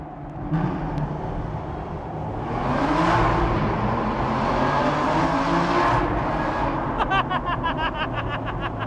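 A 15-year-old Aston Martin Vantage V12 revs hard and accelerates, its engine roar swelling loud and close and holding high, then breaking into rapid pulsing near the end.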